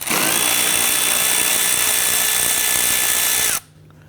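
A power socket tool spins steadily to loosen a bolt on the bumper of a 2011-2015 Kia Sorento, a loud, continuous whine held for over three seconds before cutting off abruptly.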